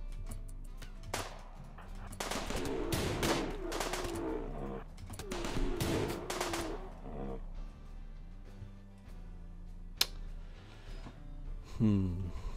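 Bursts of gunfire from the colony-management video game RimWorld come in clustered volleys amid game sounds and music, with a player talking over it.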